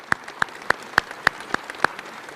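Applause at a ministerial speech on defence spending comes as about seven sharp, evenly spaced claps in a steady rhythm, close and clear over a quiet room.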